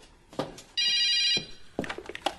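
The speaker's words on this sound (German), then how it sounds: "Telefon." An old-style telephone bell gives one short, bright ring of about half a second, close and clear, set between softer scattered sounds in a German radio crime drama scene.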